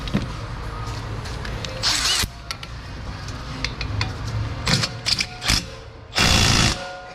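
A power tool drives bolts on the brake assembly of an Infiniti G37 S that vibrates while braking, in two loud, close whirring bursts: one short and one longer near the end, separated by quieter shop noise.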